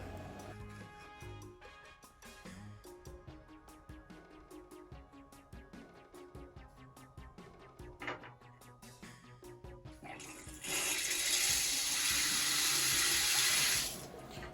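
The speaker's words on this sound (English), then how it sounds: "The water is still hitting the basin, which is good." Water from a newly installed faucet runs into a sink basin, quiet and trickling at first, then a loud steady gush for a few seconds before easing off, with clinks of handling throughout.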